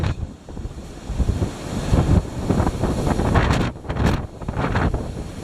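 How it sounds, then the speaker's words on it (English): Strong wind buffets the microphone in heavy, continuous rumbling gusts, loud and close, with no voices, on a hilltop among trees. "I don't know if you can even hear me, it's so windy"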